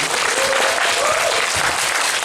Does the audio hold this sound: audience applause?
yes